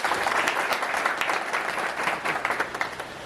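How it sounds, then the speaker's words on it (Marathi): Loud, dense applause from a live audience for Zee Marathi at a celebration marking 100 episodes of a Marathi serial, with steady clapping that fills the whole stretch without pause. "सो झी मराठीसाठी एकदा जोरदार टाळ्या"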